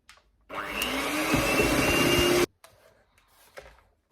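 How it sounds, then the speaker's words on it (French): Electric hand mixer whipping cream with icing sugar for a lemon mousse entremet, running loud and steady for about two seconds before switching off, followed by faint handling noises. "je vais venir ajouter mon sucre glace et je vais continuer de mélanger"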